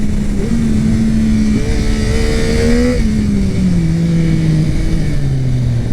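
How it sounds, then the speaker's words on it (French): A 2021 Yamaha MT-09 SP motorcycle engine revs loud and close, its pitch climbing steadily and then sliding back down as the throttle eases off, with no voices over it. "Dites-moi ce que vous pensez du son du moteur."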